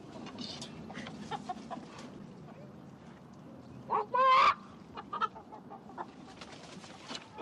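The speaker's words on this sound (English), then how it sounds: "These are actually champion white buff chickens." Champion white buff chickens cluck and squawk close by, with one loud burst of clucking midway among softer scattered calls over faint background noise.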